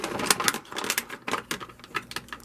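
Scissors cutting through plastic action figure packaging, a quick run of sharp close snips and crunches in an uneven rhythm, with no talking.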